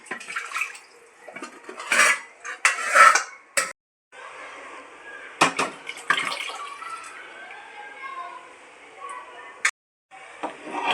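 Water splashes and swirls in a metal pot with clanks of the vessel, up close, broken by pauses and dripping, as the pot is rinsed while cooking chicken curry.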